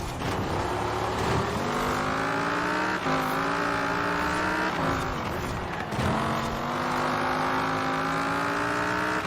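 Pontiac Firebird Trans Am engine in the racing game Forza Horizon 4, a loud continuous roar rising in pitch through the gears, with brief dips at each shift as the car accelerates along the track.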